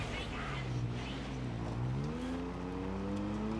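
Car engine in Borderlands 3 droning steadily with rising pitch as it revs and accelerates, loud and continuous, with game noise around it.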